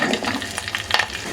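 Curry leaves going into hot oil where chana dal, cumin, mustard seeds and urad dal are already frying for a ridge gourd stir-fry, giving a close, steady crackling sizzle with bursts of spattering and no voices.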